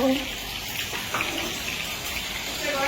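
Tap water runs steadily as fish, likely tilapia, is washed and rinsed clean in a home kitchen, a close continuous gush with faint splashing.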